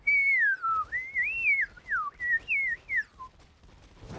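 A person whistles a wavering tune while breathing in, a thin single-pitched line sliding up and down in short phrases, close and clear, ending with a soft breathy rustle.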